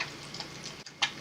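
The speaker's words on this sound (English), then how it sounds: "We're just gonna let it fry for a second on the bottom." Soft crackling sizzle of eggs frying in a pan, steady and close, with a brief dip and a small pop near the end.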